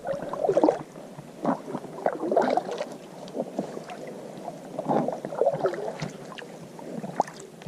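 An Advanced Elements inflatable kayak is paddled on a flooded river, giving a steady run of soft splashes and gurgling water at close range, with light wind over the microphone.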